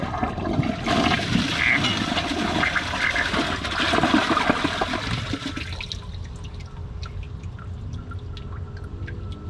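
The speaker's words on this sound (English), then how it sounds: "Second flush." A toilet flushed a second time to clear thick tissue paper, giving a loud roaring rush of water for several seconds before it fades into dripping and quiet refilling.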